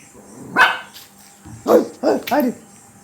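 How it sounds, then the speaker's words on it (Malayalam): A pet dog barks in short sharp yaps, one alone then three in quick succession, close and loud indoors with faint room noise between. "വെളിയിലുള്ള പൂച്ചകളെയൊക്കെ കണ്ട് അവൾ അപ്പം കുരയ്ക്കും."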